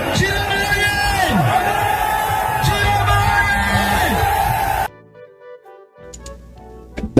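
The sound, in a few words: crowd in Douala cheering, celebrating Issa Chiroma Bakari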